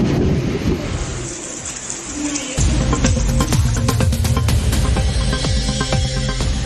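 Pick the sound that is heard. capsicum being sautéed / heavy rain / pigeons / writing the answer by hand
heavy rain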